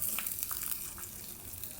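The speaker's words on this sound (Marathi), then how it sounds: "मिरच्या छानपैकी फ्राय करून घ्यायच्या।" Green chillies and curry leaves frying in oil, a dense continuous sizzle with faint crackles, close and moderately quiet, with no voice.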